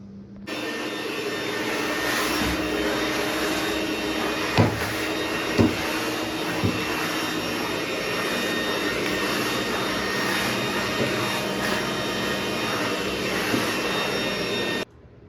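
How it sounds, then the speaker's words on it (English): A loud, steady whooshing drone of a vacuum cleaner sucking up water runs throughout, with a few brief knocks and bumps early on. "then I'll use this vacuum to vacuum up the water"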